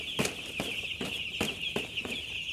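Broiler chickens cluck in a farm shed, with steady repeated clucks about twice a second over a constant background hum and chatter from the flock. There is no talking.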